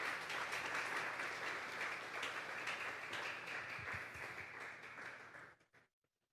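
A church congregation applauding during a Sunday service, a dense sustained wash of many hands clapping that fades out and stops abruptly near the end.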